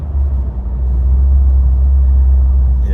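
Fifth-generation Camaro with a 6L80e automatic transmission driving along, a deep steady engine rumble and road drone heard from inside the car, loud and low throughout.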